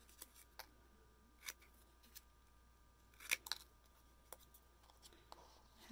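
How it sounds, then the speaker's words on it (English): Scissors snip out craft card pieces for bear cards in a quiet room, a handful of faint, separate crisp cuts scattered across the stretch. "I'm just going to kind of just cut these out basically is what I'm doing here"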